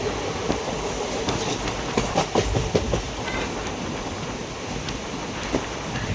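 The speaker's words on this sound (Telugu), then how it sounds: "మన ట్రైన్ బయలుదేరిపోయింది" Steady rhythmic clickety-clack of the Aurangabad Express 17253, wheels clattering over rail joints at an even pace, fairly close and continuous.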